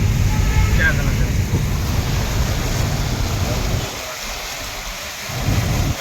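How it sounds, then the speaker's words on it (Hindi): Heavy monsoon rain pours down in Ahmedabad, a loud hiss and rumble of downpour with wind buffeting the microphone, dipping briefly before surging back. "जबरदस्त बारिश का मौसम आज अहमदाबाद से लाइव।"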